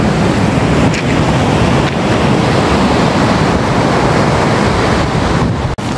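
Loud, constant roar of ocean surf breaking on Cikembang Beach, Palabuhan Ratu, Indonesia, with wind buffeting the microphone throughout and no voices.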